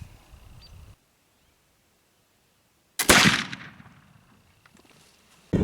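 A single loud rifle shot cracks out while rifles are sighted in at a range, followed by a long fading echo, with a quiet stretch before it and another shot starting right at the end.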